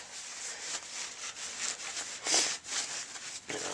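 Someone scrubs dirt and grease out of bicycle crank threads, making a steady, hissy rubbing and scraping that is soft and close, with a brief brighter scrape partway through.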